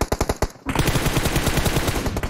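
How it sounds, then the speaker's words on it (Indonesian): Automatic gunfire sprays in the mobile game PUBG during a PMPL SEA esports match: a loud, rapid burst of shots, a brief pause, then a long, dense, sustained volley of close gunfire. "Oh my god, what a spray dari QB"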